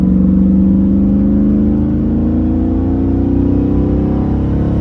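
The engine of a 2003 Chevrolet Silverado truck on 37-inch tires revs and pulls as it accelerates. A loud, steady drone climbs slowly in pitch from inside the cab, and nobody speaks.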